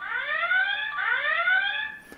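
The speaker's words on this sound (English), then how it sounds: "So that was a demo of how loud the alarm is going to be." An X-Sense WiFi home security kit's indoor alarm siren set to 50% volume sounds a loud, steady electronic warble that sweeps upward twice before cutting off, with no talking.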